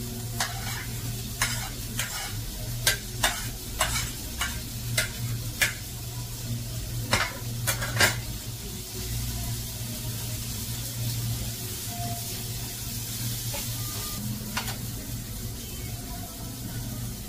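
Capsicum stir-frying in a hot pan, a steady sizzle with repeated sharp scraping stirs through the first half, then a quieter continuous frying hiss.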